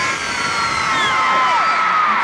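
A large concert crowd at a show in Milwaukee screams loudly, a dense high-pitched wall of shrieks and whoops that holds steady throughout.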